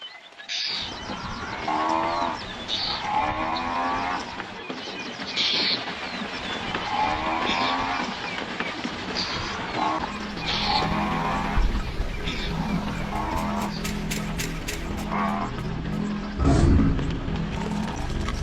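A herd of buffalo on the move in the wild, with repeated loud lowing moos and grunts from several animals over a constant rumble of hooves and movement, continuing throughout.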